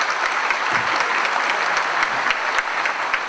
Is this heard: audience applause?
yes